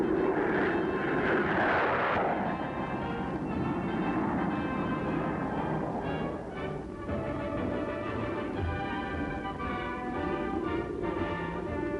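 A jet-propelled airplane roars steadily through a flight demonstration, a broad continuous drone with whining engine tones, loud and sustained throughout.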